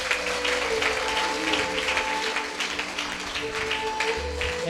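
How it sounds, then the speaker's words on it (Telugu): A congregation at a church gathering claps together, a continuous dense patter of hands over a low sustained background tone, fairly loud and without talk. "చేతులున్న వారు చప్పట్లు కొట్టారు"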